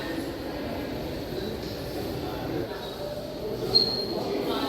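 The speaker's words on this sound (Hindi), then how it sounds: "देखो ये आ गई अपनी इलेक्ट्रिक वाली अंबाला चेन्नई एक्सप्रेस" An electric Ambala Chennai Express train rolls past with a steady, loud rumble and a faint wheel squeak near the end.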